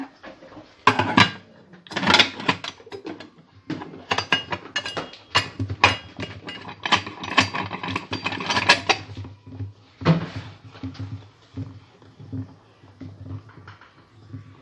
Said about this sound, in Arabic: دابا غادي نسد الكوكوط ديالي.